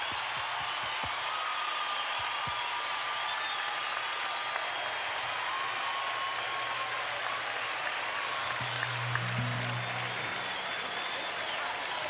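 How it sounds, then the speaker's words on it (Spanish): An audience applauds steadily for a tribute to a singer in Buenos Aires, a dense, even wash of clapping with a low hum underneath and faint voices mixed in. "Por favor, un aplauso gigante como su corazón y como su voz."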